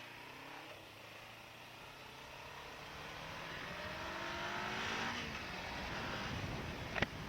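A Subaru STI accelerating past, its engine note climbing in rising sweeps as it approaches and grows louder, heard from a stopped motorcycle at a distance, ending with a sharp click.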